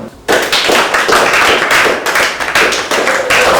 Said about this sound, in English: Alright, class, I want you all to clap for Ngozi and Sonia.